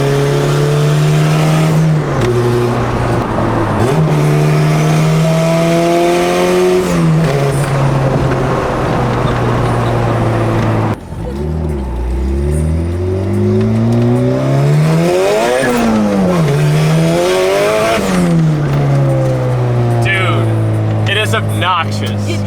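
Turbocharged car with aftermarket turbo parts accelerating hard from inside the cabin, a loud engine note climbing steadily through repeated pulls and gear shifts, with a brief dip and rise near the middle.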